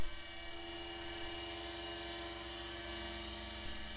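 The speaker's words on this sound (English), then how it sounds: "So this is the second half now, just getting underway with the flat end mill." A milling machine cuts with a flat end mill during aircraft nose repair work, giving a steady, loud, continuous whine with an even drone from start to end and no voices.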